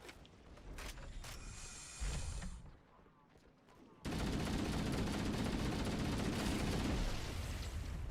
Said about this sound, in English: I hear another rocket launcher.